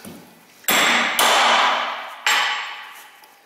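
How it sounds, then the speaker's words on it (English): Heavy hammer striking U-joint caps during a U-joint replacement: three loud, close metallic bangs, each ringing out and fading, with no talking. "beating on the U-joint caps, no, it doesn't break them"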